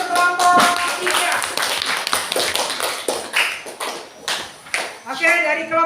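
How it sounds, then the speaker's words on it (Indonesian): A classroom of students claps for a group after its presentation, a loose run of near, uneven hand claps with sharp taps, and some talking mixed in around them. "kita berikan tepuk tangan untuk kelompok 3"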